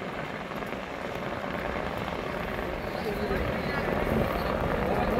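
A helicopter arrives at the Kedarnath pilgrimage site, its rotor drone a steady, loud wash that fills the whole stretch and swells slightly toward the end.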